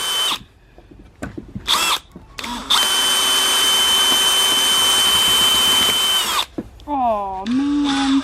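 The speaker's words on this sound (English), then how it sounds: "So my hope is to drill through the nuts." A power drill bores into hard walnut shells, starting with short stop-start bursts before a long steady high whine, then spins down with falling pitch and revs up again, close and loud.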